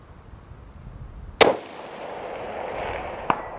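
A Falkor Defense 7even short-action 6mm rifle fires one loud, sharp shot that rings out and decays, followed about two seconds later by a faint distant crack.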